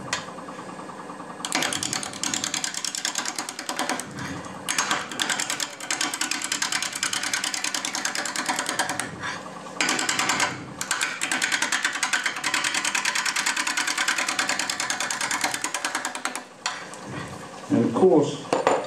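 Wood lathe cutting a natural edge offset bowl with a gouge: continuous rough, ratcheting cutting noise in long bursts with brief pauses, loud and close, and someone talks over parts of it.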